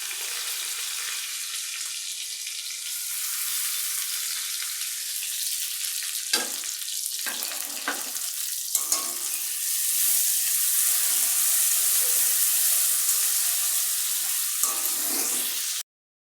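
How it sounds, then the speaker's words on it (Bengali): Drained rice fries in a hot pan on a high gas flame, a steady bright sizzling hiss that swells louder midway, broken by a few clinks and scrapes of stirring before stopping abruptly. "গ্যাসের জোরটা বাড়িয়ে দিয়ে এবারে চালগুলো একটু ভেজে নেব"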